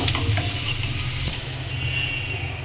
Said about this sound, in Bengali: এভাবে আলুগুলো কেটে নিয়েছি, এটা আমি তেলে ভেজে নেব।